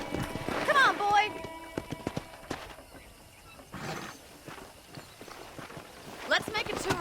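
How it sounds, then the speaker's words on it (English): Horse hooves clip-clopping at a walk on a ranch in the video game Red Dead Redemption, a steady rhythmic plodding under intermittent spoken dialogue. "I picked out a fine horse for you"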